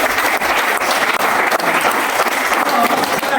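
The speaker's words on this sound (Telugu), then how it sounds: "గట్టిగా చప్పట్లు కొట్టండి." A crowd claps loudly and continuously at a business seminar on direct selling, a dense, close, unbroken roar of hands with only brief dips.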